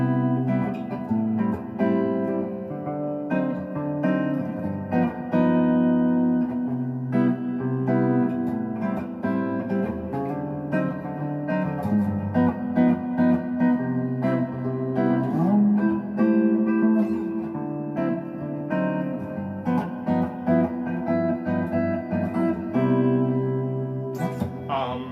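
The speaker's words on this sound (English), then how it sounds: "But doing the 7 with the flat 13 would sound like this." Jazz turnaround on a harmonic instrument featuring a dominant seventh chord with a flat thirteenth tension over a moving bass line, sustained chords played alone at steady moderate volume for about twenty-five seconds.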